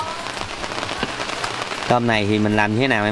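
Light, persistent rain patters on a rubber sheet overhead on a riverside boat, a steady close crackle of drops throughout, with a person speaking over it in the second half.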